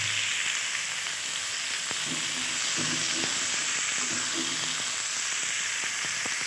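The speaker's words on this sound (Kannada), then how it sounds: "ಹಾಕೊಂಡಾದಮೇಲೆ ಒಂದು 5 ನಿಮಿಷ ಚೆನ್ನಾಗಿ ಹುರ್ಕೋಬೇಕು" Carrot chutney ingredients frying in a hot pan, a steady loud hissing sizzle throughout with occasional soft stirring taps, close and unbroken.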